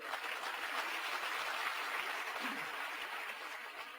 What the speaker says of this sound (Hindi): तो उसके लिए एक जोरदार तालियां हो जाए।